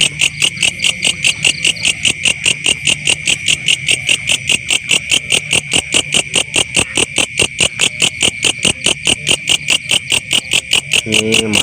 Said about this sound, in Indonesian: Suara burung jangkrik.